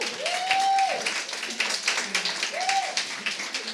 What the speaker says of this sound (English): Can I please have a huge round of applause for Ali Rose Sisk?